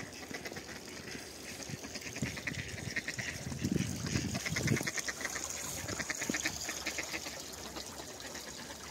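Ducks in a snowy city park in winter near a partly freezing lake, quacking repeatedly at a moderate distance over a steady outdoor wash, with a busier stretch of calls midway.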